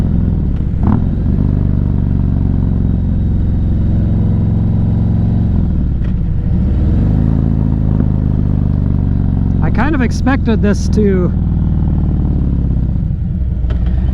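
A 2024 Harley-Davidson Street Glide motorcycle ridden through town, its engine droning steadily and close throughout, with a brief rev and some clatter near the end, under someone talking.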